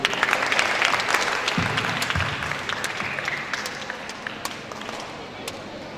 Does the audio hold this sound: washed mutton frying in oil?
no